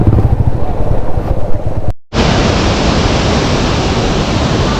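Waterfall and river flowing near Sela Pass in Arunachal Pradesh, a loud, dense roar of rushing water with a brief dropout midway, then a steady, full wash of spray close to the microphone.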